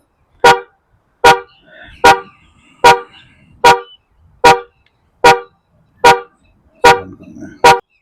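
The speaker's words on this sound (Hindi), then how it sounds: "अगर आप गाड़ी ढूंढ रहे हैं तो आप यहाँ से हॉर्न बजा सकते हैं" A Mahindra Scorpio N Z8 Select car horn honks ten times in short, evenly spaced blasts, loud and close, with quiet gaps between each toot.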